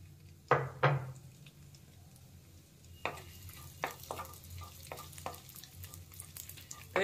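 Garlic and ginger fry in oil in a clay kadai for a veg hot and sour soup, with two sharp sizzling bursts as they hit the pan, then a softer crackle broken by stirring scrapes, close and without talk.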